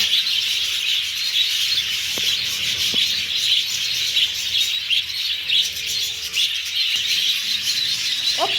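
A crowd of pet budgerigars kept for breeding chirps and chatters constantly in a dense, steady flock chorus, close and fairly loud with no talking.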